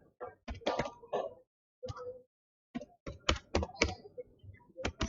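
Keys clack on a computer keyboard in short, irregular bursts separated by brief pauses while code is entered, close and fairly quiet.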